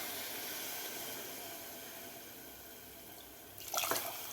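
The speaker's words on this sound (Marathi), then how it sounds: "त्यानंतर आपल्याला यामध्ये 2 वाट्या पाणी घालायचं आहे" Water pours into a pressure cooker over rice for a cashew and pea pulao, a steady rushing wash that grows into a brief louder splash near the end.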